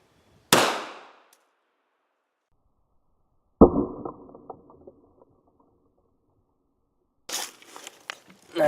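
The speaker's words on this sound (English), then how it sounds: "Next up's gonna be a 9mm out of a Gen 4 Glock 19." A 9mm round fired from a Gen 4 Glock 19 into body armor: one sharp, loud gunshot near the start, followed later by a crack and clatter of impact, then a further burst of noise.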